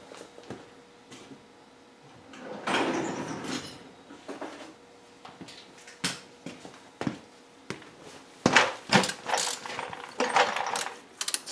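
Ratchet and socket clicking on a GMC Acadia engine during repair work, a run of sharp mechanical ratcheting clicks in irregular bursts, close and fairly loud, with clattering tool handling between strokes and no talking.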